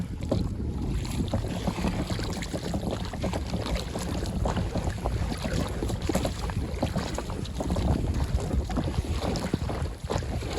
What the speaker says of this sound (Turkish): Bayağı rüzgar var ya. Rüzgar beni şimdiden götürüyor.